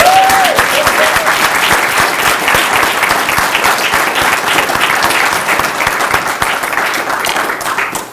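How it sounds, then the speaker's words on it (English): Loud, sustained applause from an audience celebrating a woman at an afternoon event, dense steady clapping filling the whole stretch without letting up. "will you clap with me?"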